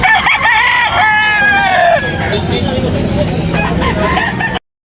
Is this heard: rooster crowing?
yes